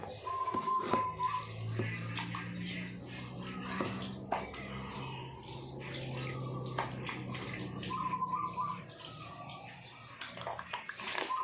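Splashing water from a running stream as a face is washed with facial foam, broadband wet rushing with repeated cupped-hand splashes throughout, fairly close, with no talk.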